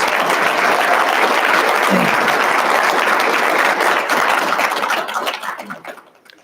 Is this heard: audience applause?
yes